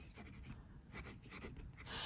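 A Schon Design Pocket 6 fountain pen with a Bock steel medium nib moving across Clairefontaine paper, giving a soft, continuous scratchy rasp with gentle rhythmic strokes, close up and quiet.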